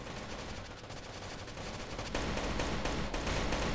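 Continuous rapid gunfire in the video game Rainbow Six: Shadow Vanguard, a steady dense stream of shots that grows louder partway through, with no talk.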